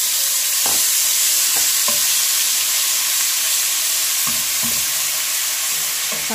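Garlic-ginger paste sizzles loudly in hot oil in a pan: a dense, steady hiss close by, with a few scattered stirring clicks and no voices.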